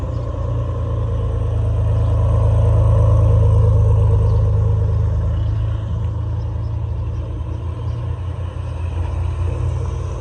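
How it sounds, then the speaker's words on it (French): A Ferrari supercar in a supercar convoy rumbles nearby, its deep engine note swelling loud as it arrives, then settling into a steady low drone. "Il y a la Ferrari qui arrive."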